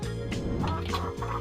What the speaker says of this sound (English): Chicken are more than twice as numerous as humans.